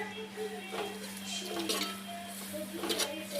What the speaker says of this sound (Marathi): आता हे हलवून घ्यायचं आता हे परतून घ्यायचं